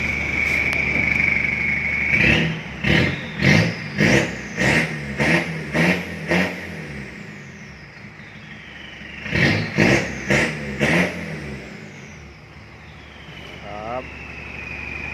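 A pickup's Isuzu D-Max 3.0 engine revs in a rapid series of short bursts, with a high turbo whistle rising and fading between them, close and fairly loud.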